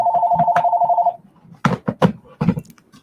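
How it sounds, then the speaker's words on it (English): An old landline telephone rings indoors with a steady electronic trill for about a second, then stops, followed by a few sharp thumps and clatters as someone reaches for it across a desk. "what was I saying before the dang phone rang?"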